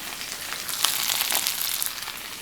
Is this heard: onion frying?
yes